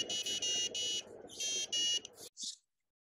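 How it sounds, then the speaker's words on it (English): An OpenCR board running Arduino code plays a short melody on a small buzzer: a series of shrill electronic tones in quick bursts with brief pauses, ending on a final short note before silence. "So that's a very short melody."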